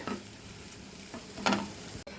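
Ginger and onions sauté in a pan, a soft steady sizzle with faint stirring scrapes and no voices.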